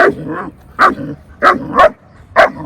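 A German Shepherd barks persistently at something in front of it, four or five loud, close barks in an uneven rhythm with short pauses between them.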